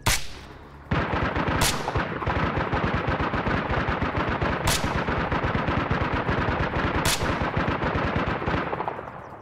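Machine gun fire in the military shooter ArmA Reforger: after a brief lull, a loud, close weapon opens up in one long, rapid, unbroken stream of shots lasting several seconds, with sharp louder cracks now and then.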